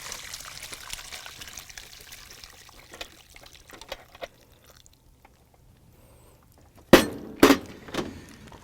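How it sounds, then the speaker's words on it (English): Braising liquid from a braised turkey is poured through a strainer into a bowl, a soft faint trickle and drip that ends in a few sharp clinks and splashes near the close. "hopefully without spilling anything, we're going to pour all the liquid through"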